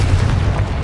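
A Confringo blasting spell goes off in Hogwarts Legacy, producing a dense, continuous low boom with a rumbling blast tail that fills the whole short moment at steady loudness, with no voices.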